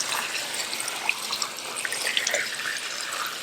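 Running water pours into a container for cleaning crawfish, a steady hissing splash with small bubbling drips, close and moderately loud, no voices.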